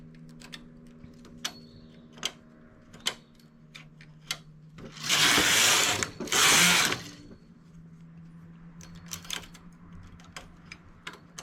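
A knitting machine working on a child's skirt: light mechanical ticks and clicks come and go, then two loud, close, rushing carriage passes sweep across in quick succession before the quiet ticking returns.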